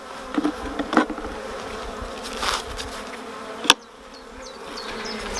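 Honeybees buzz steadily around a hive during supering, a dense droning hum with occasional individual insects passing close, plus a few soft knocks and clicks.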